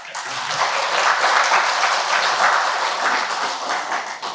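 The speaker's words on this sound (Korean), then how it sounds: "박수 한번" Loud, sustained applause from a crowd at a creditors' association event, a dense even wash of many hands clapping throughout with no voices over it.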